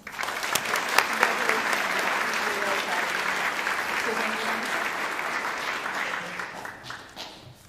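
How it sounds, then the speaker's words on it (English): Sustained audience applause at a high school underclass awards ceremony, a dense steady wash of clapping from a large crowd that holds for several seconds before gradually tapering off. "Well, one more round of applause."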